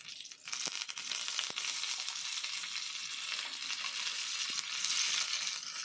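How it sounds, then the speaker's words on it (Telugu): Cumin, garlic, dried chillies, curry leaves and green chillies fry in oil with a continuous close crackling sizzle, broken by a few sharp clicks of stirring. "మూగిట్లో ఆయిల్ పోసుకుని జీలకర్ర వెల్లుల్లిపాయలు ఎండుమిరపకాయలు కరివేపాకు వేసుకుని పచ్చిమిర్చి కూడా వేసుకుని ఫ్రై చేసుకోవాలి"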